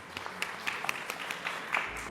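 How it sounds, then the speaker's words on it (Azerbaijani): Audience applause at a book event, a steady wash of clapping with scattered sharper claps, moderately faint and continuous for about two seconds, with no talking over it. "Alqışlarla sizi yola salınır"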